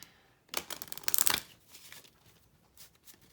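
Tarot cards being shuffled by hand, a brief flurry of riffling flutters building to a dense burst in the first half, then fading to softer scattered card sounds, close and quiet.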